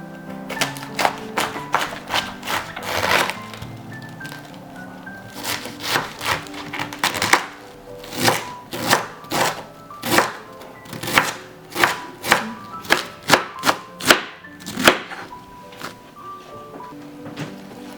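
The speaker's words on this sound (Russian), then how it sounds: "Сейчас нарезаем все соломкой и будем обжаривать" Rapid knife chopping of vegetables into thin strips on a wooden board, sharp repeated thuds in uneven bursts that settle into a quicker steady rhythm, close and loud.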